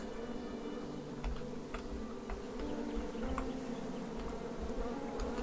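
Bees buzzing in the King's Quest (2015) video game, a steady droning hum with faint ticking clicks scattered through it, continuous and close, with no talking.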